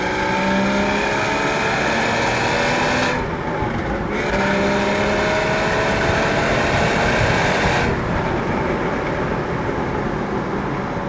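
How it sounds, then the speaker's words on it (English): A Porsche Boxster 981 S in sports mode pulls hard from inside the cabin, its exhaust droning and rising in pitch through the revs with two brief gear-change dips, loud and continuous. "press that sports button, and hear the exhaust"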